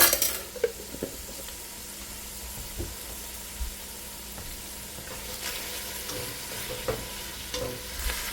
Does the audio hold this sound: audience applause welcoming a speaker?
no